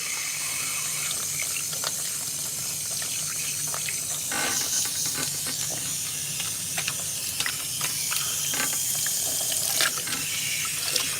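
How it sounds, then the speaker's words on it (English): A bathroom or kitchen tap runs at low pressure, making a steady close hiss of water with small clinks and rattles scattered through it. "Why is this water pressure so low?"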